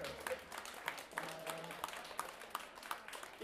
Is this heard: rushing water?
no